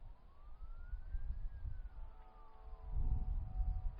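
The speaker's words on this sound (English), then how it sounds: "I believe that's a fire truck and a police car." Faint fire truck and police car sirens wail in the distance, one rising and falling, others joining as overlapping drawn-out tones over a low rumble of traffic.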